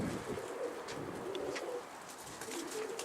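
Soft, low pigeon cooing repeats a few times amid faint outdoor background noise.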